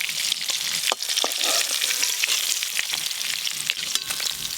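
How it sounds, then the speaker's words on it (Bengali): Sardine fish fry in hot oil with a steady, bright sizzle, broken by occasional sharp crackles and pops as the pieces are stirred, close by and with no talk. "এবার এই মাছগুলো ভেজে নেব।"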